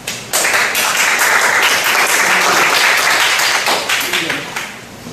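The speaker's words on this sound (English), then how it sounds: "Let's welcome him with a big applause." An audience breaks into big, loud applause welcoming a talk speaker on adventure sports, dense clapping that starts abruptly and holds steady before tapering off near the end.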